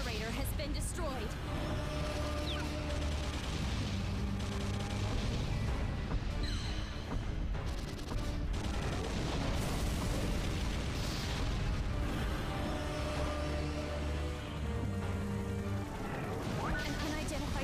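Generator explosion in the Godzilla PS4 game, with booming blasts and crashes layered over continuous loud game music and effects while a voice speaks.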